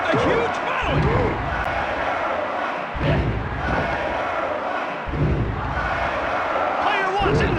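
A wrestling crowd in an Acclaim video game roars loudly and continuously, with heavy slams and thuds punctuating the noise every couple of seconds and a commentator's voice mixed in.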